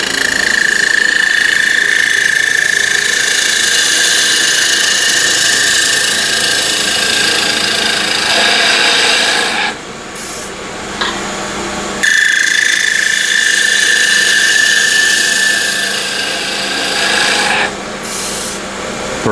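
A skew chisel shears across a slightly out-of-round walnut blank spinning on a wood lathe, giving a steady, loud rasping cut with a bright whine, broken by two short pauses as the tool lifts off, then resuming.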